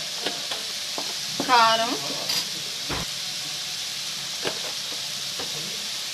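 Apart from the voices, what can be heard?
curry ingredients frying in oil in a pan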